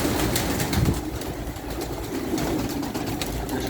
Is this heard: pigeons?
yes